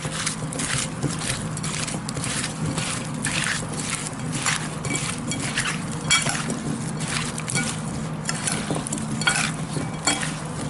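A spoon or hands steadily stirring and tossing seasoned spicy cucumber salad in a bowl, with repeated soft wet scraping strokes at close range.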